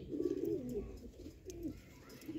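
Sialkoti rooftop pigeons, a breeding pair, coo softly nearby in low, throaty bursts, a few rolling calls repeating against a quiet background.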